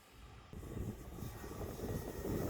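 A Seagull Funfly 3D RC airplane flying by, its propeller engine buzz swelling from faint to steadily louder and nearer over a couple of seconds, heard alone.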